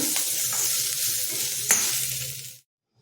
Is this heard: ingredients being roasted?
yes